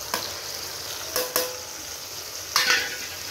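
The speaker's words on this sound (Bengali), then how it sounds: "একটু নেড়ে চেড়ে নেব।" Spices (chili, cumin, turmeric powder and salt) being stirred into mutton curry in a hot pan, giving three short scraping sizzle bursts with quiet frying between them.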